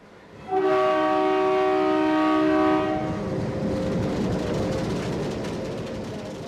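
The Maitree Express in Bangladesh sounds a long, loud multi-tone horn blast, then settles into the rumbling roll of the train departing, steady and close with the noise slowly easing.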